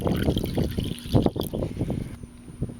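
Water is poured from a cup onto tomato seeds, a close trickling and splashing pour with a few gurgles that thins out toward the end.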